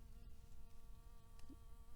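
Bee fly, a fly that mimics a bee, buzzing steadily in a spring woodland among wildflowers, a faint continuous hum with a tonal drone heard alone at low level.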